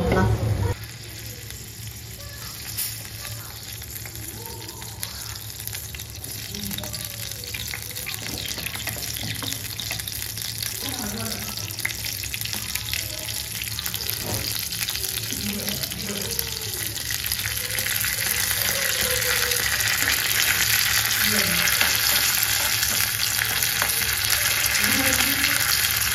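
Oil tempering with cumin, mustard seeds, curry leaves and crushed garlic for one-pot rasam rice, a steady broadband sizzle and crackle running the whole time, close and fairly loud, growing slightly stronger toward the end.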